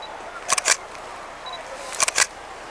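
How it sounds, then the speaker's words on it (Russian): DSLR camera taking a photo, two crisp shutter clicks, each a quick double snap, spaced about a second and a half apart in a quiet room. "Второй кадр я сделаю на"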